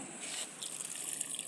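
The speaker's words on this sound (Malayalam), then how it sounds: "ആദ്യം നമ്മുടെ ചീനി തൈക്ക് ഒഴിക്കാം." Water poured from a container onto a chili seedling in a garden gives a soft, continuous splashing and trickling. It is faint and steady throughout.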